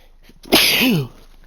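A single loud, close sneeze bursts out sharply and trails off in a brief voiced tail, with quiet surroundings before and after.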